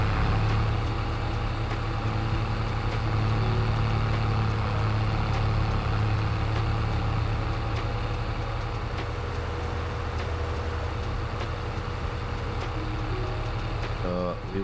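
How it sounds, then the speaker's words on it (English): Loud tractor engine in the Farming Simulator video game, a steady low drone running unbroken throughout with faint background sounds on top. "I know this tractor is still so freaking loud."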